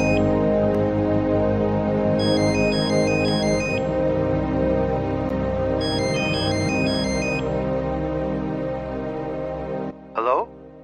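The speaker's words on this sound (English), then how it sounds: "My cell's ringing." A cell phone ringtone plays in the Crime Stories video game, a repeating electronic melody in two bursts over a steady background music bed, followed by a short sound at the end.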